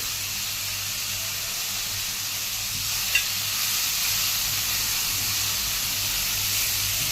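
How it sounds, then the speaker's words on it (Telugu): Spring onions and soya chunks stir-frying in a pan give a steady, loud sizzling hiss throughout, with one brief clink of a utensil partway through. "ఇవన్నీ బాగా ఫ్రై చేయాలి, పచ్చివాసన పోయే వరకు."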